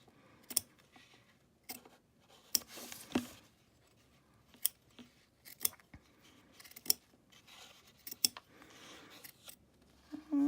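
Scissors snip vinyl close up in a series of crisp, irregular cuts, roughly ten sharp clicks separated by quiet pauses.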